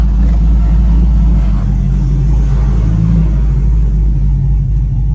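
A car engine, fitted with a throttle controller, runs loud and close in a steady low rumble and swells slightly as it revs.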